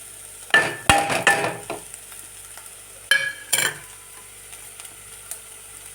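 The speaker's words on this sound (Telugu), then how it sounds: "ఇప్పుడు ఈ కారాన్ని దీంట్లో మిక్స్ చేసేది" Chili powder is stirred into bitter gourd curry frying in a pan, with two bursts of scraping and clattering spoon strokes over a soft, low sizzle that carries on between them.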